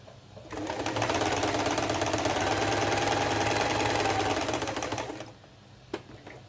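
A domestic sewing machine stitches knitted self-striping sock fabric, running as one steady, close whir for about five seconds before it stops. There is no talk.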